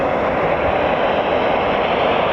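Eurofighter Typhoon FGR4 jets departing an RAF station, a loud, steady broadband roar that holds unbroken throughout with no distinct pauses.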